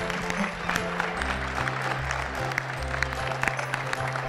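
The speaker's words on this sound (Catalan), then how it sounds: "Un fort aplaudiment pel Nil." A crowd at a Mini Xef cooking prize event claps for a second-place winner, continuous applause with a few sharper claps and a low musical tone running underneath.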